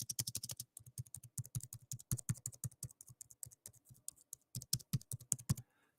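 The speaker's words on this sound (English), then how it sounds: "Here's my Logitech MX Mini." Typing on a Logitech MX Mini keyboard, soft close key taps in quick irregular runs with short pauses, fairly quiet, no talking.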